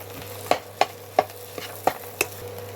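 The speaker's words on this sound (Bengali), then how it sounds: "আমি এবার ভাজা ভাজা করে পুরটা তৈরি করে নেব" Potato and pea filling for bread chop being stirred and fried in a pan, with a soft sizzle under sharp, irregular scraping strokes of the spatula at close range.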